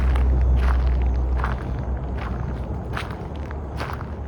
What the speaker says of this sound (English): I'm walking down to the picnic pavilion here.